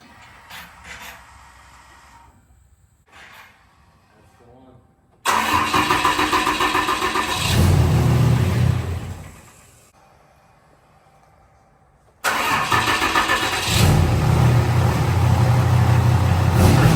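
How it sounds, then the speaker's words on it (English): A Cummins diesel truck engine cranks and starts, then rumbles loudly at idle; it cuts off and is started again, roaring close by. "So you know what time that is to start the truck and back it out."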